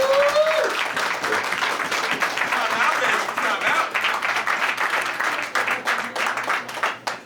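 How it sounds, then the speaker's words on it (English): An audience at a film screening in Tammany Hall, NYC, breaks into sustained applause: dense, loud clapping that holds steady for several seconds and then thins into more scattered claps near the end. A voice can be heard faintly at the start. "Give it for yourselves. Clap, clap, clap, clap, clap, clap."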